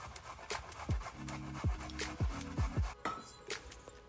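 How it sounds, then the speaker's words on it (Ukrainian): Close rasping strokes of a small carrot being rubbed over a fine grater, a handful of rhythmic scrapes with light knocks between them. "натираю невеличку моркву на дрібну терку."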